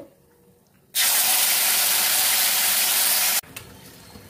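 Spice paste hitting hot oil with cracked cardamom, a sudden loud sustained sizzle that starts abruptly, holds steady for about two and a half seconds, then cuts off sharply, leaving quiet kitchen sounds.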